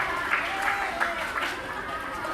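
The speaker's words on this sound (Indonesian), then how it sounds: "Aplaus untuk sekolah kita." An audience applauds for a school in South Sulawesi, a brief burst of dense clapping from a crowd, with a voice present over it.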